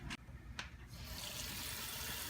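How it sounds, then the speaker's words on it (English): Cold tap water running into a pan of cut potatoes. A couple of light clinks come first, then the stream rushes in steadily, rather quiet and close, with no talk. "Make sure you get the potatoes all covered with the cold water, Hannah."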